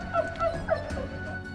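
Dog giving three short high yips or whimpering barks in quick succession, moderately close and not loud, over light background noise.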